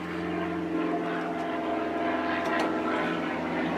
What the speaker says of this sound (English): Sorry there's a plane flying overhead